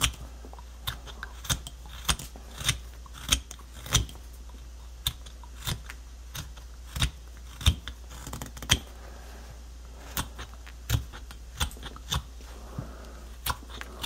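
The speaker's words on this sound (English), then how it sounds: "I'm using just a standard pull cut or paring cut." A knife carves a wooden hedgehog with short pull or paring cuts, giving close, crisp scraping snicks spaced about every half second to a second over a low steady hum, with no talking.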